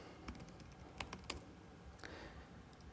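Shell commands are typed on a computer keyboard in quiet, scattered keystrokes and short bursts, with a few louder key clicks standing out. Nobody speaks.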